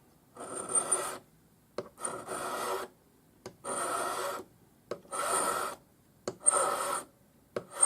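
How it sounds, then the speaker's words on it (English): A Swiss number 2 cut flat hand file rasps across the edge of a ring in repeated strokes of about a second each, separated by short pauses. The sound is close, dry and alone. "we'll file back to the point using a Swiss number 2 cut flat hand file"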